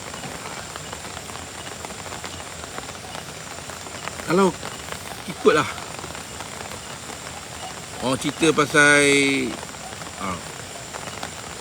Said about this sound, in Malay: hujan ni semakin mengganas.